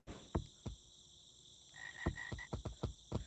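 A frog croaks in the Gorilla Tag video game, several short sharp croaks spaced irregularly, with a high trilling call in the middle, set over a constant electronic whine and faint background hiss, no voices.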